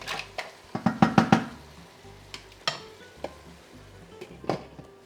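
Fresh mussels are stirred while cooking in a pot, the shells clattering and knocking in quick bursts of sharp clacks over a faint simmering sizzle, with no one talking.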